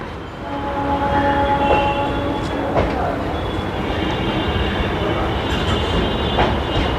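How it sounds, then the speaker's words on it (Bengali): A train departing Bally Ghat station on the Sealdah–Dankuni line rumbles steadily along the rails with continuous broadband noise, faint metallic squeals and clacks rising briefly over the running din. "বালিঘাট থেকে ট্রেন ছাড়লো যাচ্ছে"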